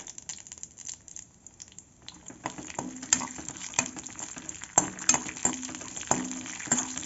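Cashews, raisins and crushed cardamom fry in ghee in a pan, giving a quiet run of crackles and small pops that grows busier and sharper after the first couple of seconds, with no talking.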